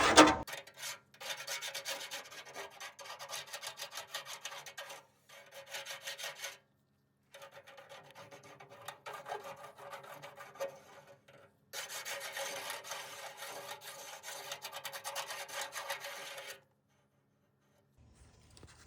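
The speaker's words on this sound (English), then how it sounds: "Sandpaper, I think, will do a great job as well" 180-grit sandpaper rasps along the edge of a Samsung dryer part in several bursts of steady back-and-forth rubbing, close and moderately loud, separated by short silent pauses.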